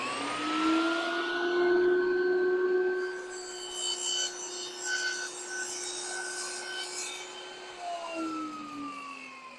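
A saw runs a sled-guided cut for a tile box, giving a steady whining tone that holds for about eight seconds and then drops as the cut finishes. The sawing is close and fairly loud, with no voices.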